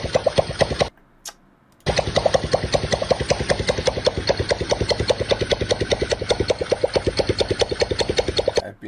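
A powerful motorcycle engine revs loudly and close, with a rapid, even pulsing firing rhythm that cuts out briefly near the start and then comes straight back.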